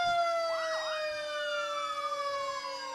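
Multiple fire truck and police sirens wail together at a distance during a parade in Ramsey, Minnesota, one rising and falling while others hold long steady tones.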